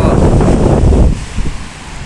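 Sea waves wash onto a beach in a brief, loud burst of rushing surf, blended with heavy wind buffeting the microphone, then easing off.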